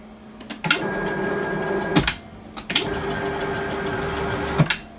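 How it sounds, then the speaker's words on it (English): A drill press ball nut spins fast under stepper-driven motion in two runs of about two seconds each, giving a steady mechanical whir with a gritty, slightly noisy bearing texture and sharp starts and stops. "Wow, the ball nut's going really fast."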